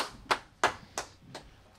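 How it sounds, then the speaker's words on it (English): A single sharp hand clap from a podcast studio audience, followed by a few more scattered claps at a steady spacing, each short and bright, with no talking. "One clap from the audience"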